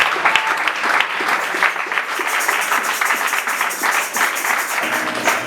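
A church congregation breaks into sustained applause, a dense wash of many hands clapping at close range that continues strongly throughout with slight swells.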